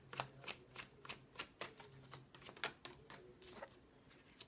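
Tarot cards shuffled by hand, a series of quick riffling flicks and soft slaps at an uneven rhythm, close and fairly quiet with no talking.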